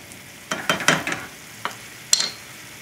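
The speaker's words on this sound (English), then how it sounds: "let that white wine reduce" White wine reducing in a hot pan for a seafood stew, giving a few short bursts of sizzling and stirring scrapes spaced apart, close and moderately loud with no talking.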